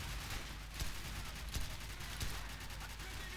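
Gunfire rattles in Call of Duty, a fast scatter of muffled shots and short bursts spread over a constant noisy wash, fairly quiet and without a break.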